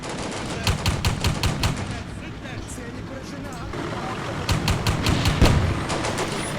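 Repeated bursts of rifle and machine-gun fire crackle from the World War II tactics game Combat Mission Barbarossa to Berlin, with a T-26 tank and an anti-tank rifle in the fight; the shots come in dense volleys, loud and close.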